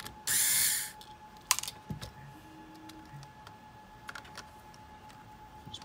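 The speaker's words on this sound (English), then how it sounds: "you're going to take your number 0 Phillips and you're going to remove the screws that are holding in the scroll wheels" Small screws being removed with a number 0 Phillips screwdriver from the scroll wheels of a DJI Phantom 4 Pro drone controller: faint, sparse clicks and ticks of the tool and metal parts, preceded by a brief burst of hissing noise.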